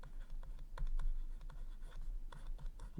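Pen scratching across paper while a maths solution for an integration-by-parts exercise is written out, with steady close strokes and small taps in quick succession and no talking.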